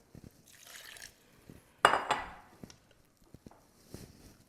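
Water poured into a beef spread mixture in a kitchen, a short splashing burst midway among quiet clinks and small drips, faint and close.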